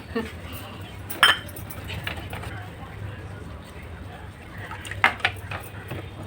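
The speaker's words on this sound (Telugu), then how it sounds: "కాస్త ఫుడ్ కలరు ఈ గిన్నెలో వేసి కలుపుకుంటాను కొంచెం" A spoon mixes food colouring in a bowl, giving two sharp metallic clinks against the rim a few seconds apart, over a low steady background with faint voices.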